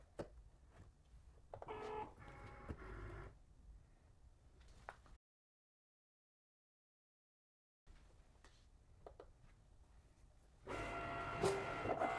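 A Cricut Maker cutting machine slicing cotton fabric: quiet bursts of motorized whirring and rattling carriage movement, broken by a brief silent gap, then a louder stretch of mechanical buzzing.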